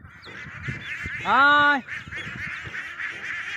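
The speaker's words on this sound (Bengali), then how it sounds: "অনেক রোদ, যার কারণে হাঁসগুলো এখন ঘরে তুলে দিব" Khaki Campbell ducks give one loud, near, harmonic honking call lasting about half a second, with a person calling to the flock and talking before and after it.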